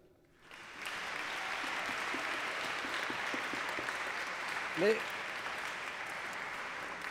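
Church congregation applauding during a youth Mass for the Immaculate Conception, a sustained, dense wash of clapping that rises quickly and holds steady, with a brief spoken word and faint voices underneath.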